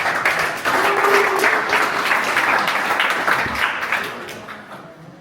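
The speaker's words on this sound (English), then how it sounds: "Give an applause for Copilot." Sustained audience applause at a Berlin startup pitch event, a dense wash of many hands clapping loudly for several seconds before tapering off toward the end.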